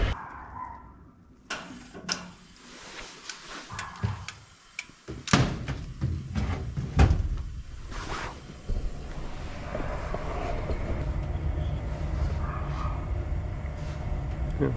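An Amana/Goodman AMVC96 gas furnace fires up with its door on: a series of clicks and thunks, then a steady broadband roar of burner and blower that holds for the rest of the stretch.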